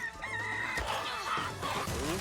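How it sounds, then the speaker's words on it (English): Rooster crowing during a game trailer, a drawn-out cock-a-doodle-doo with clucking notes, fairly loud amid busy trailer sound and music. "Who brought the rooster?"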